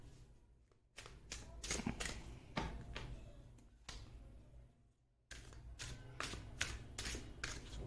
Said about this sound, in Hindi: कार्ड्स मैं आपके सामने ही शफल करूंगी